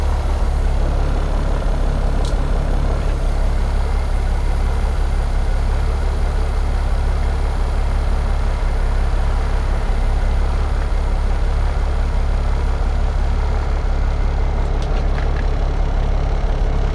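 A 1989 Freightliner cabover truck idling with a steady, loud, low diesel rumble that holds unchanged throughout, close by with no talking.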